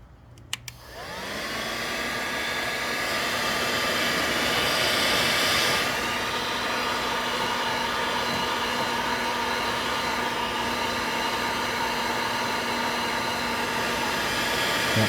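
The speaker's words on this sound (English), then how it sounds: "I'm going to take my ancient heat gun, and I'm going to heat this thing up." An old heat gun, used to shrink tubing on a replacement H11 headlight bulb connector for a 2013 Honda Accord, switches on with a click and blows a steady, loud, whining rush of air for the full stretch.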